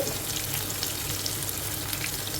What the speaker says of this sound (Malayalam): ചെറിയുള്ളി കറിവേപ്പില പട്ട ഗ്രാമ്പു എല്ലാം ഇടാം കേട്ടോ എന്നിട്ട് നമുക്ക് വഴറ്റാം